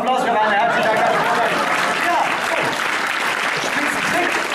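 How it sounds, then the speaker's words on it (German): An audience at a Halloween party in a Frankfurt airport hotel applauds after a magic trick, loud continuous clapping mixed with crowd chatter and voices throughout. "Nochmal Applaus für Rainer, herzlichen Dank"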